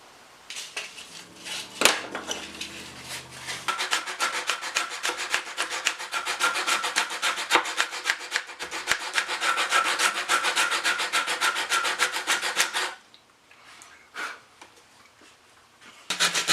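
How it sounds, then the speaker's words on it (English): Hand sanding of a wooden mandolin body being readied for stain and finish, a steady dry scratching rub that continues close and fairly loud for about eleven seconds, then drops to quieter scattered strokes near the end. "dull, boring sanding"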